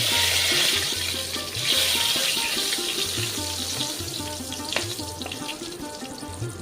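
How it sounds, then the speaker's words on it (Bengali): Whole cardamom, cloves, a cinnamon piece, bay leaves and dried chili fry in oil in a pan, a steady close sizzle running under a soft, rhythmic tonal backing, with no one speaking. "একটু ফ্রাই হবে"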